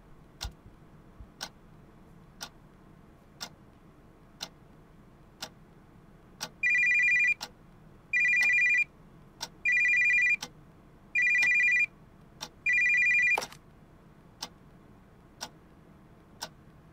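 In a horror video game, a telephone rings in five evenly spaced bursts over a steady, regular ticking like a clock, with no voices.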